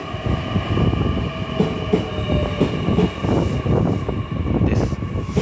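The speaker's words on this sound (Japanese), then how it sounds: "ワンマンの中津行きが到着です" A one-man local train bound for Nakatsu pulling into a station platform: steady rumbling rolling noise with rhythmic wheel clacks and occasional squeals and hisses, close and continuous, no voices.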